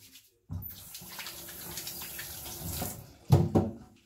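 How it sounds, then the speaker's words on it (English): Tap water runs steadily from a faucet into a sink while hands are washed beneath it, a continuous close splashing with a louder burst of splatter near the end. "So let me wash my hands."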